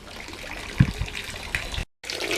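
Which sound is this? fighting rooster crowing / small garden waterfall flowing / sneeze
small garden waterfall flowing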